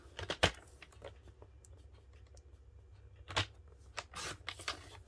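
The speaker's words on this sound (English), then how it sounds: "out of your vanilla piece, I'm going to cut 3 by 3 squares." Scissors cut vanilla cardstock into 3 by 3 inch squares, giving a few quiet, crisp snips and rustles of paper near the start and again toward the end, close by and soft, with no talking.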